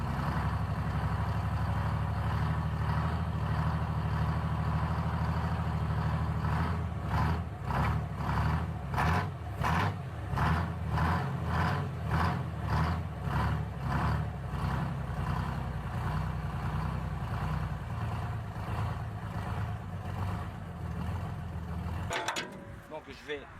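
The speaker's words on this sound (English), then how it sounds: "The Detroit Diesel 6-71 stands as a symbol of American industrial innovation, an engine that helped power a century of transportation," A vintage Detroit Diesel 6-71 engine runs with a deep, steady mechanical drone, then settles into a loud, pulsing chug of regular firing beats before cutting off abruptly near the end, with a voice talking over it.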